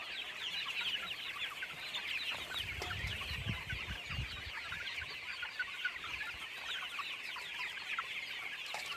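A flock of desi chicks on a Pakistani farm cheep and cluck continuously while being fed, producing a dense, steady chorus of small peeps with occasional louder calls and faint rustling close by.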